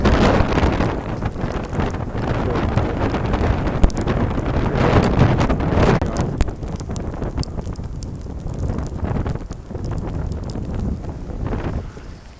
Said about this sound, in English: It's not the biggest gust yet, but it's supposed to come.